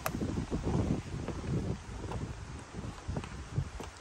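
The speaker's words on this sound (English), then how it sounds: "Always windy in my garden" Wind gusting through a garden of roses in bloom, a steady broadband rush with louder swells and rustling, no speech.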